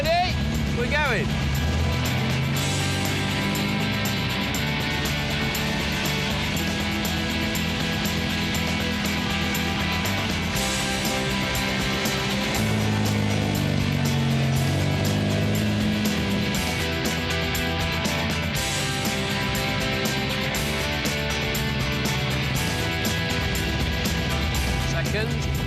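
A classic MG car driving and shifting up through all four gears, its engine note rising and dropping with each change, heard steadily from on board alongside some talk.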